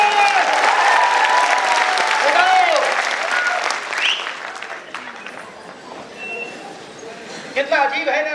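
Participants at a leadership development programme applaud loudly during introductions, with voices and cheering mixed in; the clapping fades midway, then a few sharp claps and talk return near the end.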